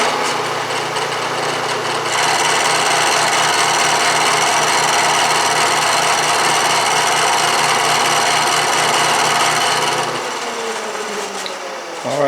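A hand file rasps steadily across a cast iron drill press vise casting in one long, loud, close pass lasting several seconds, then stops abruptly, with no speech.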